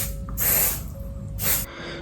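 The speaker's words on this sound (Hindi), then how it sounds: "ये परफ्यूम को अपने ऊपर स्प्रे करने वाला हूँ।" Two short hissing bursts of Wild Stone perfume sprayed from a bottle at close range, about a second apart, with quiet room tone between them.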